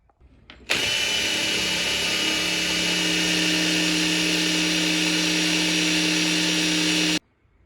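A battery-powered drill whirs steadily at high speed for about six seconds while working on a raw steel motorcycle frame, starting abruptly and stopping suddenly, loud and close with no talking.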